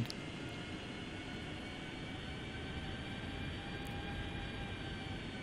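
Simulated Boeing 757 engines in FSX spooling at taxi thrust, a steady loud whine with a low rumble that holds evenly throughout, with no talking.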